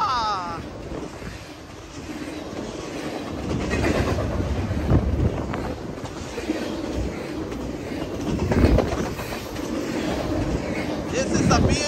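A long BNSF double-stack intermodal freight train rolls past Richmond station in California, a steady loud rumble with wheel clatter and squeal throughout, with faint birds in the background.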